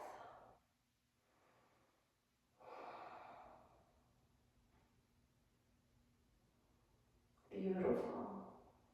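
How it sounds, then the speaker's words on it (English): Slow, deep breaths during a yoga side body flow, close and quiet: a long exhale, then a fuller inhale, a pause, and a heavier sighing breath near the end, with no talk. "Deeper breath."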